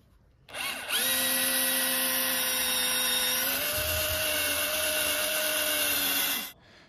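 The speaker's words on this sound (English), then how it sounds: "I should be able to get in here and drill straight down my pilot hole." An older cordless drill bores a pilot hole straight down into a large wooden post in a garage workshop, running as a loud, steady whine for about six seconds that dips slightly in pitch as it bites deeper.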